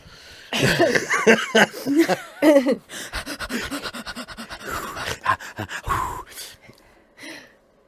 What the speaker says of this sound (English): She's heavy breathing.